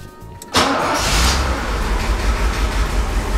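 A Mercedes R107 engine cranks briefly and catches about half a second in, then settles into a loud, close, steady idle with a low rumble that continues to the end.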